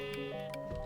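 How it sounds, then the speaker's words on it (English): Sheep in the Minecraft modpack FTB Horizons bleat in a short wavering call over a faint steady background tone, close and clear. "Listen to those sheep doing their thing."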